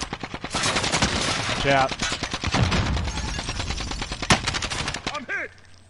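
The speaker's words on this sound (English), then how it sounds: "now we're getting shot from behind" Dense bursts of automatic gunfire from a first-person shooter video game, rapid rattling volleys close and loud, with a player briefly calling out over the shots and a sharp ricochet-like whine near the end.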